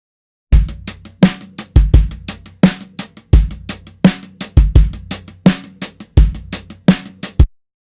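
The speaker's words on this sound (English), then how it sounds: "punchy, kind of tape saturated drums, a little bit hip hop, a little bit pop" A punchy, tape-saturated drum kit mixing acoustic and programmed sounds plays a tight hip hop and pop groove, with hard kicks and snapping snare hits repeating steadily for several bars, loud and upfront without voices.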